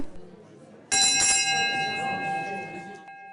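A single gong strike marking timed job interviews rings out sharply, then hums with a long shimmering decay over a faint background murmur.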